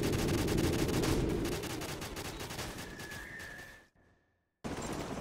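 Dense, loud gunfire and explosive blasts fill a battle in Call of Duty Modern Warfare, fading into a moment of near silence before the din abruptly resumes.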